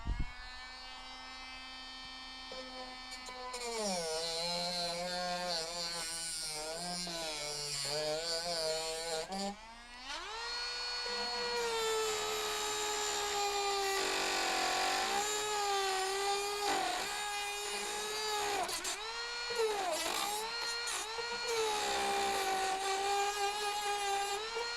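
A small power tool trims down overly long screw heads, whining loudly with shifting pitch as it bites in and eases off in repeated bursts, with no talk over it.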